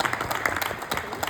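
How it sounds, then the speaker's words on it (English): Audience clapping after a presentation on student athlete mental health, brisk continuous applause with audible individual claps, fairly close and steady. "let's give a nice round of applause one more time"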